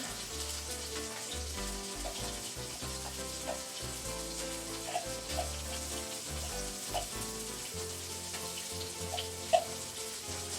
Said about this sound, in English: Put my onions in here.